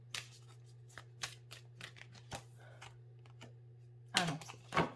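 Tarot cards being drawn and shuffled, a run of light papery flicks and taps at irregular intervals, quiet and close, ending in two louder rustling bursts over a steady low hum.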